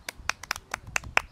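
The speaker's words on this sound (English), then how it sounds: "You can clap now." Several sharp hand claps ring out in an irregular rhythm, close and clear, each a crisp separate smack with brief quiet between, and no talking over them.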